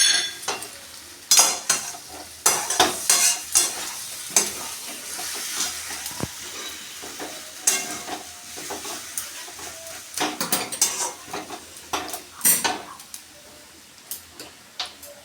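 Jackfruit and potato curry stirred in a pan, a spoon scraping and clicking against the metal in repeated bursts over a soft sizzle, close and fairly loud, with no talk.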